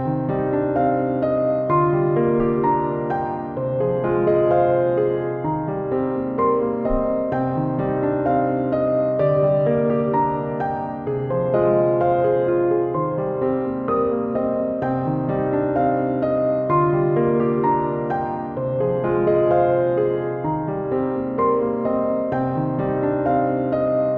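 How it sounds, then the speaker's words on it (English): Realistic virtual piano plays a dense, sustained passage of full chords and moving lines, steady and fairly loud throughout with no pauses or voices. "the piano I'm gonna show you how I created sounds like this"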